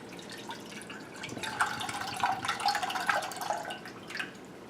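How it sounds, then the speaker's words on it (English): A can of evaporated milk pours into a small sauce pot over high heat, giving a steady liquid trickle and splash that swells in the middle and then tapers off, with no talking. "And then pour in a can of evaporated milk."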